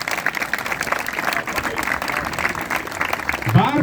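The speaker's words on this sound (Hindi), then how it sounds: "उनके लिए जोरदार तालियां।" Crowd applauding a leader's arrival at a university protest rally, steady dense clapping mixed with shouting voices, loud and close throughout.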